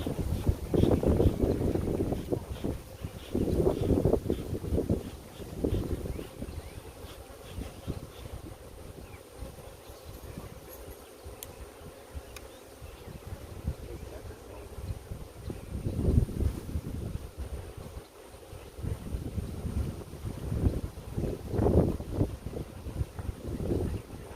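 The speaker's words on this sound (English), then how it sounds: "It's like this fucking wind changing direction." Gusty outdoor wind buffeting the microphone beside a beehive during an inspection, rising and falling in strong rumbling waves over about twenty-four seconds.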